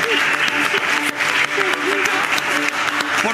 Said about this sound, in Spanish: vamos a extender este aplauso